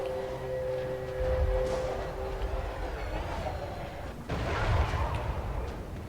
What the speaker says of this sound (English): we can finally shoot at them with our cannons